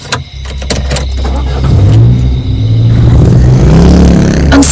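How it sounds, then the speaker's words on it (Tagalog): A car engine drives past as a story sound effect: loud, close rumbling with rising revving tones that sweep upward, after some brief clicks at the start, with no speech. "Ang sabi ni Tia Sara, habang nakasakay sa kotse niya si Raquel, ay tahimik yun habang nagbabiyahe sila."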